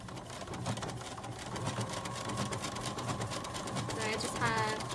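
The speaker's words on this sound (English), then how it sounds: "So I'm gonna go ahead and start stitching that with my decorative stitch." A sewing machine runs a decorative stitch along the edge of fabric, a steady mechanical whir with rapid needle rhythm beneath a voice talking throughout.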